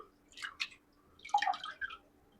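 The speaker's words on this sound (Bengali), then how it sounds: "এক এক করে আমি সবগুলো সবজি ধুয়ে নিচ্ছি।" Vegetables are washed one by one in water, giving a few soft, close splashes and drips in two short bursts against a quiet background, with no talking.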